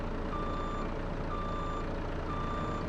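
A truck with four-wheel steer backs up in a farming video game cattle ranch, its reversing alarm giving three evenly spaced steady beeps over a constant low engine drone, with no talk.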